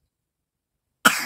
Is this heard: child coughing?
yes